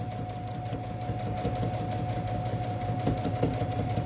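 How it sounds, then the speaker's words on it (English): A sewing machine stitches a quilt block in a fast, steady mechanical whir with a constant motor tone, close and continuous throughout. "I'm going to start sewing."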